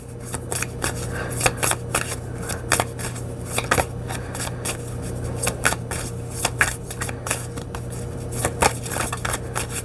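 Tarot cards are shuffled and drawn close by, with a rapid patter of riffling snaps and flicks repeating quietly over a faint steady hum.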